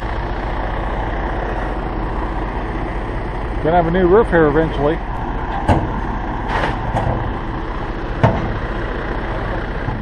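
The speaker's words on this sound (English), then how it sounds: "So the truck just came in with a new roofing right here" A truck bringing roofing materials to a Central Oregon homestead rumbles steadily at idle, with someone talking briefly over the engine and a few short knocks and clatters from the work nearby.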